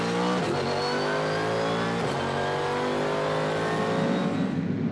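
A Mercedes SLS AMG GT3 race car, a heavy car with steel brakes, accelerates hard at the Hockenheim circuit toward about 250 km/h. Its engine roars loud and close, the pitch climbing steadily with one brief gear-change dip.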